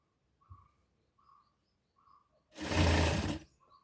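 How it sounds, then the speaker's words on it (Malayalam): A single burst of sewing machine stitching, about a second long, running long basting stitches on a saree blouse, preceded by quiet soft chirps and faint ticking and with no talking. "വലിയ കാണിയിട്ട് ഇങ്ങനെ അങ്ങോട്ട് അടിച്ചു കൊടുക്കാം"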